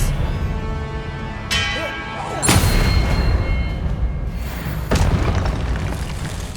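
Spell impacts from Hogwarts Legacy, the Expelliarmus disarming charm among them: a few sharp booming bursts land in a busy, loud game mix, each followed by a crackling, rumbling decay.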